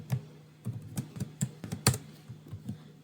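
Code being typed on a computer keyboard, with scattered, irregular clicking keystrokes near and fairly quiet, several short bursts separated by brief pauses and no talking.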